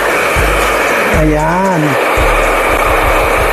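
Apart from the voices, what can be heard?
blow-drying hair with a hair blower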